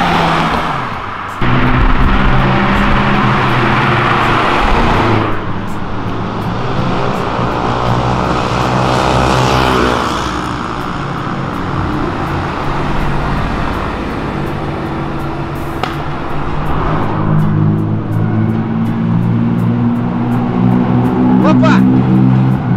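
Sports cars such as Lamborghini, BMW and Ferrari downshift along Avenida Europa, engines revving and dropping through gears in loud roaring bursts that pass by, while people talk nearby.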